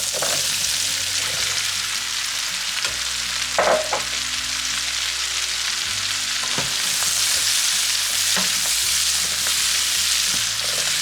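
Vegetables fry in melted butter and olive oil alongside chicken sausage, giving a steady, close crackling sizzle with a few sharp utensil clinks and stirring scrapes, and no talking.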